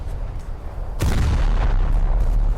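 Naval gunfire hitting a ship in War Thunder, a single sharp, heavy impact about a second in, followed by a loud, sustained low rumble amid ongoing battle noise.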